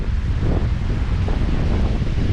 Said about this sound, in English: Just listen to the wind today.